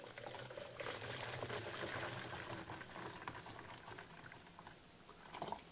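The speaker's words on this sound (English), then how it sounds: "And we take 1 litre of hot water." Hot water boiled in a kettle being poured, a continuous bubbling, trickling flow heard close by and fairly faint, with a brief splashy rise near the end and no talk.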